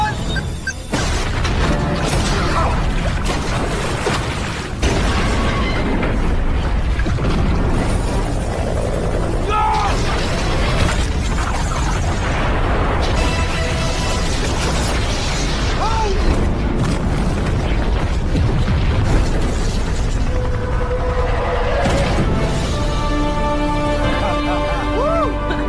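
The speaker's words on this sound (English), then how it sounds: "the bombs throughout the building would explode soon" Bombs detonate throughout a building in an action movie sequence, heavy booms and crashes rolling continuously and loudly under a dense score, with shouted dialogue breaking through.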